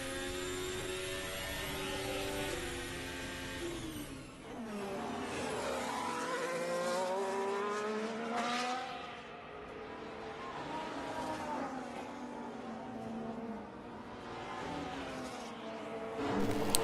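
A 2022 Formula 1 car, heard from onboard at up to 310 km/h, screams through rising and falling engine notes as it shifts gears, with dips in pitch at braking points and a constant loud roar.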